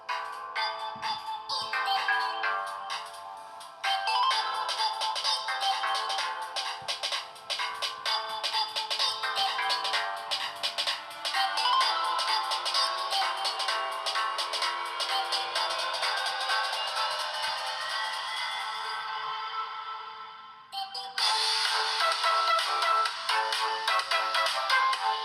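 A Blackview S8 budget smartphone plays a bright, tinny melody through its built-in speaker at a steady level, with a brief drop near the end before the tune resumes.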